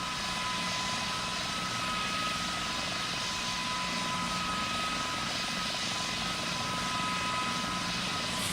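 Aircraft engine drone in Roblox Pilot Training Flight Simulator, a steady, loud, unbroken hum with a constant tone running the whole time, with no talk over it.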